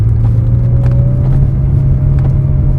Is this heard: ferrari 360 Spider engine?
yes